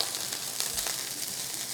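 Onions sizzle in a pan with a soft, steady crackling hiss and a few faint pops, quiet and brief with no talk.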